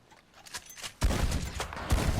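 A shotgun is test fired in Red Dead Redemption 2: a loud, sudden blast hits about halfway through after quieter clicks, followed by a sustained rumbling tail and a second heavy thump near the end.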